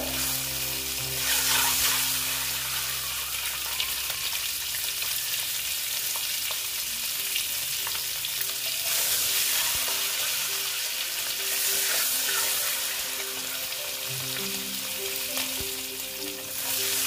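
Eggs frying hard in a pan, a continuous close sizzle and crackle that keeps an even level throughout, with a few light stirring sounds and no voices.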